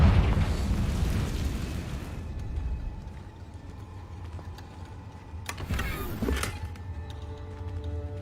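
A Confringo blasting curse goes off in Hogwarts Legacy as a loud, rumbling blast that fades into a lingering roar, then a second crackling burst erupts near the end.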